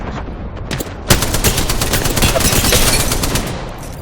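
Video-game gunfire rattles in loud, close, rapid bursts that start sparse and then become a sustained stream of shots, with no one talking.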